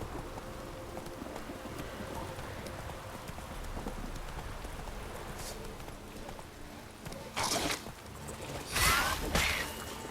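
A horse's hooves clip-clop steadily at a walk over a low ambient bed in a video game, with a couple of louder whooshing movements near the end.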